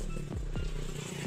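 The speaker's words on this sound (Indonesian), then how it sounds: "maaf ya, ada motor lewat" A motorcycle passes fairly close by, its engine note briefly rising and then falling away against a low, steady background hum.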